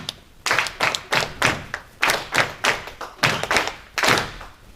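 An audience at a university humanities faculty event claps together in a counted rhythm, about a dozen sharp, evenly spaced claps that ring out clearly and close.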